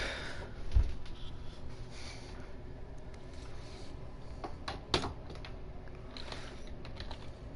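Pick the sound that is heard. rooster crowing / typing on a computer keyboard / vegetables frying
typing on a computer keyboard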